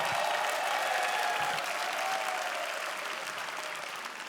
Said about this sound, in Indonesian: Tepuk tangan untuk Adit dan juga Bobby.